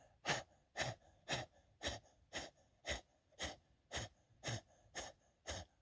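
Rapid rhythmic panting like a dog during a breathing exercise, about eleven short sharp breaths evenly spaced, close and fairly quiet, with no talking.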